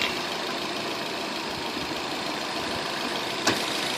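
A tuned Subaru GT with a stage-one turbo upgrade idles at a steady, close-up rumble, with one brief sharp click or tick near the end.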